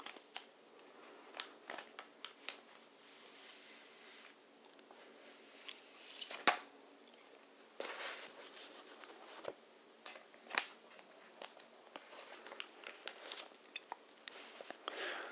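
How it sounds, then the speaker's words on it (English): A plastic comic book bag crinkles and rustles up close in a long run of quiet, irregular crackles and soft snaps, with no talking. "I do like the noise this plastic makes, so that's why I'm keeping them in the bag, so we can open them up"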